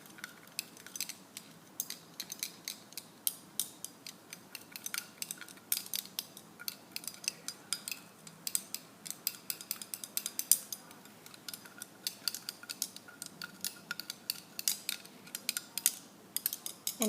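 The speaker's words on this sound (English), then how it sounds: "Stir with stir rod to dissolve." A glass stir rod stirring a solution inside a glass test tube, a quiet run of rapid light clinks and scrapes in an irregular, continuous rhythm, close and faint with no talking.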